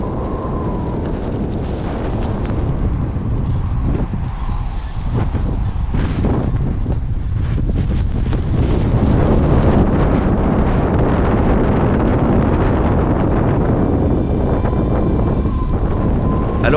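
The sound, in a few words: strong wind gusts on Lapland ski trail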